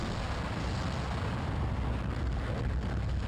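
A loud, dense explosion from an enemy blowing apart in the horror game Dead Space, a sustained rumbling burst filling the whole moment with no voices.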